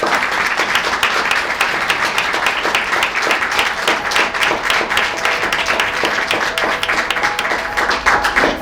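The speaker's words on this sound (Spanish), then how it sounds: "un aplauso fuerte para ellos" A crowd at a talk among paleontologists gives them loud, sustained applause, a thick, steady wash of many hands clapping at once with no pause.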